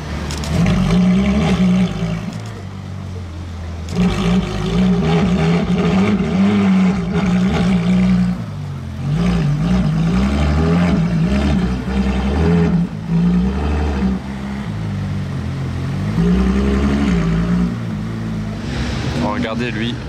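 A hypercar's engine rumbles and rises unevenly as it is parked behind a McLaren Senna among other hypercars. It sounds low and throaty, with wind buffeting the microphone and people talking over it throughout.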